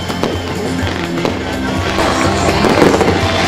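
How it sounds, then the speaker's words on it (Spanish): Fireworks burst at festivities in a town plaza in front of the municipal building, giving sharp repeated bangs and crackles over a crowd murmur, loud and fairly close. "Ahí estamos viendo fuegos artificiales."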